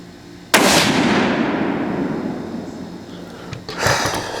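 A single loud 6.5 Creedmoor rifle shot from a thin pencil-profile barrel fired downrange, a sharp crack followed by a long rolling echo that decays over several seconds, with a faint click near the end.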